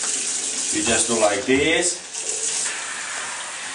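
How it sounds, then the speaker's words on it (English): A computer keyboard is rinsed under a running tap in a sink, the steady close hiss and splash of water flowing throughout while a person talks over it. "and there is your keyboard in the shower"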